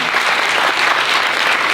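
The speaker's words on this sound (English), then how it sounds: "round of applause for our panelists" A seated audience applauds panelists after a college alumni-interview discussion, a steady, even wash of many hands clapping with no other sound on top.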